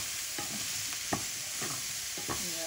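Ground pepper being stirred into mushrooms and broccoli in a pan: several distinct scraping strokes of a utensil, spaced roughly half a second apart, over a low steady sizzle.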